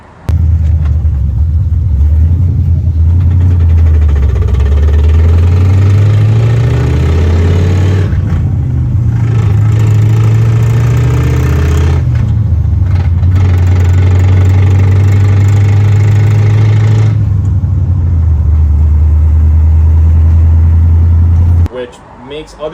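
Pontiac GTO with a noisy T56 manual transmission, a worn input shaft or countershaft bearing suspected, running with a loud low engine rumble and drone that shifts in pitch through revs, with someone talking over it.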